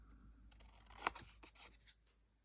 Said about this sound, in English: We're going to cut it off at an angle